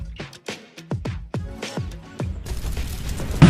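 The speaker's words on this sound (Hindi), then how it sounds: "चलो भैया, ये अनार जलाते हैं।" An anar fountain firecracker is lit: several sharp bursts come first, then a loud, continuous crackling hiss as the fountain burns and sprays sparks.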